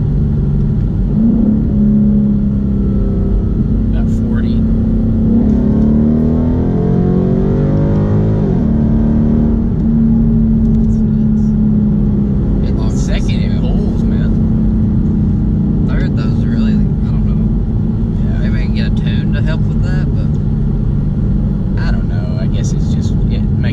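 A Ford Mustang with a big American V8 accelerates in second gear, a deep, steady rumble swelling into a rising surge of revs, heard from inside the car while people talk over it.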